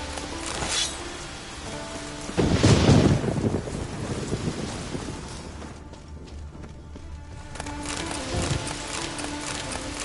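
Hoofbeats of the horse Roach clop through a thunderstorm in The Witcher game, steady rain hissing throughout with a heavy thunder rumble partway and the rhythmic clip-clop of hooves nearby.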